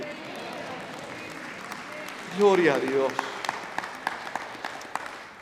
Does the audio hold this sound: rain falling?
no